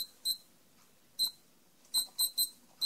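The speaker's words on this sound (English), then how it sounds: "Yeah, there's the timer." A desk timer beeps five short, high electronic beeps in an uneven pattern, clear and close in an otherwise quiet room.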